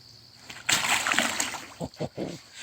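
A caught common carp of about 17 to 18 pounds is released back into a creek, making one loud close splash and slosh of water, followed by a few smaller splashes and drips as it swims off.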